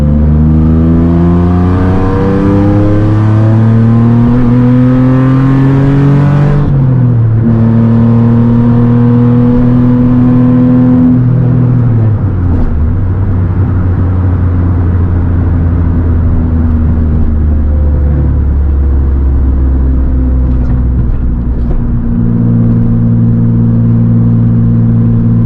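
A loud Nissan 350Z engine drones steadily while driving on autumn backroads, its pitch climbing, dropping sharply near the seven-second mark, then rising and easing again through shifts, with no talk over it.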